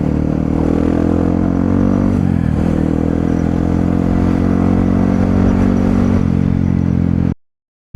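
A rented Yamaha WR motorcycle is ridden along a mountain route toward Bromo, with its engine droning loudly and continuously, a dip and recovery in revs as the rider shifts and then pulls on, before the sound cuts off abruptly.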